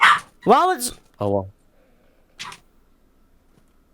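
A dog barks and whimpers nearby in a few short, close bursts, with a voice speaking briefly among them before the room goes mostly quiet.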